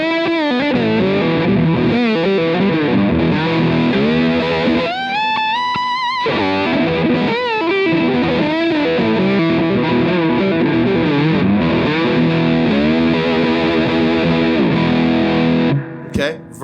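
Lap steel guitar with a 24-inch scale and a noiseless single coil pickup, playing a continuous sliding melody with gliding pitch bends and sustained notes over a full, slightly gritty tone, close and loud throughout.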